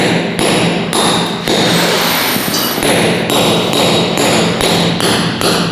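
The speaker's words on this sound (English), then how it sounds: "right now I'm gonna put a hole in the floor" Sharp, repeated hammer-like blows punching a hole into a house floor, about eight loud impacts in an uneven rhythm at close range, with no voices.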